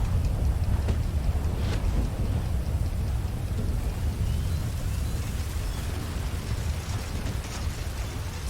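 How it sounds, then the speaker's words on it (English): Rain and thunder in GTA 5, a steady heavy downpour with a deep rumbling low end and occasional louder cracks, continuous throughout and with no talking. "Not just rain, but thunder."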